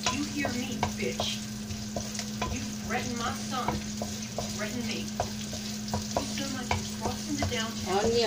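Onion fries in a hot pan with a loud, close, continuous crackling sizzle, dotted with stirring scrapes and a steady hum underneath, and no speech.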